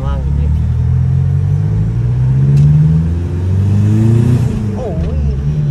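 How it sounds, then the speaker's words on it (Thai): A pickup truck with a swapped-in diesel engine revs hard, its deep rumble rising and falling in pitch over several seconds, loud and close. "กระบะนี่แหละก็คือเสียงกระบะเลย"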